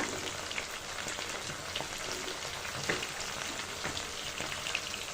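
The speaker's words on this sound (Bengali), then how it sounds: "কাঁচা মশলাটা ভালো করে ভেজে নিব" Ginger, garlic and cumin paste frying in a pan for a tripe bhuna, a continuous dense sizzle with scattered small pops and crackles, close and steady, no talking.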